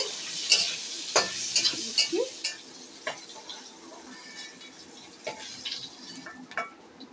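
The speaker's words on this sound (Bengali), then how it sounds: "এই যে আমার বড়ি ভাজা হয়ে গেছে, এই যে চিংড়ি মাছ ভেজে নিয়েছি" Prawns and lentil dumplings (bori) frying in oil in a pan, soft sizzling under repeated stirring and scraping, with a few sharp metallic clinks of utensil against pan.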